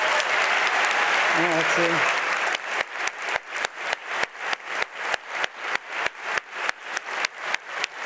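Audience applause for students at an anniversary event swells briefly, then gives way to slow, even rhythmic clapping in unison, each clap distinct; a voice speaks briefly over the start.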